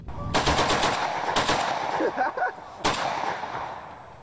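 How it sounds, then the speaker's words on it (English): Fully automatic assault rifle fire at a shooting range, heard as several rapid bursts of sharp reports with short pauses between them, moderately loud and echoing. "is that how he's shooting a fully automatic?"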